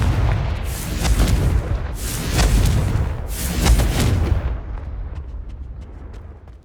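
Confringo blast spell in Hogwarts Legacy: three heavy rumbling explosions about a second apart, loud and close, followed by a fading tail with faint crackles.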